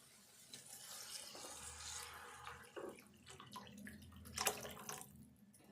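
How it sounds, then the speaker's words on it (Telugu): Tamarind water pours into a pan of dried-fish curry, a faint close splashing and gurgling stream with a few drips and clinks near the end. "ఇప్పుడు చింతపండు సూపు పోసుకోవాలి"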